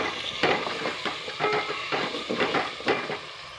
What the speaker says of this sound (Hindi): 5 मिनट के लिए हम इसकी भुनाई करेंगे।